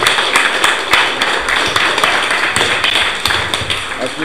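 Loud, continuous clapping from a crowd, dense and sustained throughout, with no talk over it.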